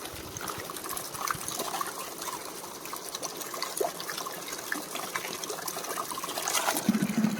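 Water from a mountain spring trickles and splashes steadily up close while someone drinks from it outdoors in the hills, a continuous liquid gurgle with no talking.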